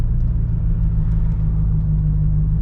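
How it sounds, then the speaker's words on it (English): Steady low, loud rumble of the V8 engine and exhaust in a 1991 Chevrolet Corvette C4 fitted with rare Porsche 959 suspension, heard as a constant deep drone from inside the car with no speech. "You have the loud V8 exhaust, you have the loud rumble of the V8"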